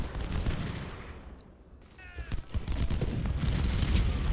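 Massed musket volleys from an Ultimate General: Civil War battle crackle and rumble in dense, overlapping bursts, dipping briefly before swelling back into a loud continuous fusillade.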